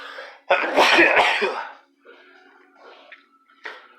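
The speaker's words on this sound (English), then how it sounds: "I'm going to sneeze." One loud, explosive sneeze bursts out close to the microphone, followed by quieter breathy sniffles and faint rustling.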